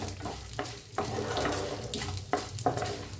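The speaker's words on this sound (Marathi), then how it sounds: "आता ह्याला भाजून घेऊया." Chana dal and urad dal dry-roasting in a pan with mustard seeds, a steady close sizzle and crackle broken by a few scraping stirs.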